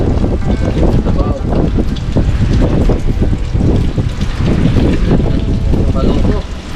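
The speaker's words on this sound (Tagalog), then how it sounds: "Malakas yung hangin mga loko." Strong wind roars and buffets the microphone continuously, loud and gusty, with low rumbling and people talking faintly beneath it.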